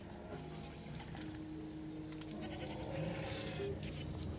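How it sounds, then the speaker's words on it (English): Goats bleating repeatedly inside the dinosaur park-building game Jurassic World Evolution, several short wavering calls over a steady ambient background bed, with no talking. "I hear goats."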